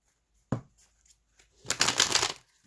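Oracle cards are shuffled close by: a single sharp tap, then a loud riffling burst of cards lasting under a second, with no talk.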